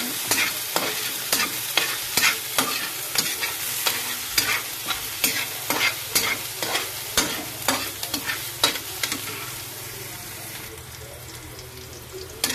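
Ingredients for pumpkin soup browning in a pan, with a steady frying sizzle under regular, rhythmic scraping strokes of a spoon stirring close by, easing off toward the end.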